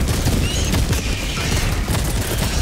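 A Gatling sentry turret in the video game Helldivers 2 fires a dense, continuous fusillade of rapid shots with booming impacts, loud and unbroken from start to finish, with no talk over it.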